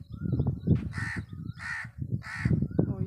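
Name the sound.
crows cawing in a village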